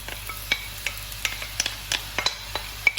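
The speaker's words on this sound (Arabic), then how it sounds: "نحطهم نقلي هذاك البصل المليح ونشوفوا كامل قبل ويتكرمل" Two large sliced onions frying in hot oil in a pan: a low steady sizzle with frequent light clicks and taps from stirring, close and fairly quiet, no talking.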